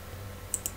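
Two quick, sharp clicks of a computer mouse during SolidWorks CAD assembly work on a V6 engine model, close and crisp over a faint room hum.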